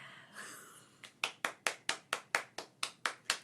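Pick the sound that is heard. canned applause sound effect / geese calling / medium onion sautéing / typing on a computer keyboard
canned applause sound effect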